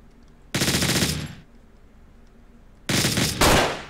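Gunfire from the Hotline Miami video game: two loud, dense bursts of rapid automatic shots, the first lasting nearly a second and the second, after a pause, running to the end with a brief break.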